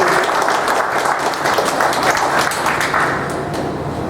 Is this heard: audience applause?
yes